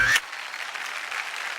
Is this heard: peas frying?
no